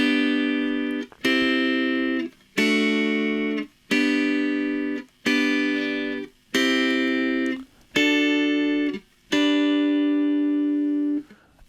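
Guitar chords ring out one after another in eight separate strikes, each chord inversion sustaining then cut short, stepping up the neck from G toward D in an even, unhurried rhythm with no voices.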